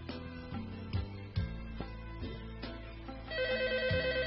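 A telephone bell rings in repeated bursts inside an indoor scene from a Uyghur feature film, fairly faint against a low background hum.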